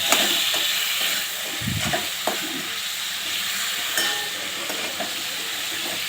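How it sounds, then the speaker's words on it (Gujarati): Potato chips dropped into frying onions give a loud, continuous sizzling hiss, with a few scraping stirs and clatters breaking through near the start. "નાખી દીધી તો છમ અવાજ આવવા માંડે પાણીનો."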